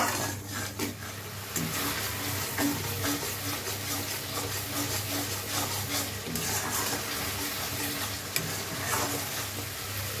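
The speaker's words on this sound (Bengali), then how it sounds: "একটু জল দিচ্ছি।" Water poured into a hot pan of Bengali chickpea-lentil fritter curry seasoned with salt, sugar and chilli powder, giving a steady close sizzle and bubbling with stirring throughout.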